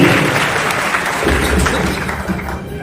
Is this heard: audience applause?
yes